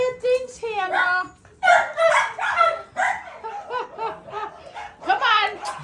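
Puppies bark and whimper in a rapid run of high, yelping cries with short pauses, close by, mixed with human voices and laughter.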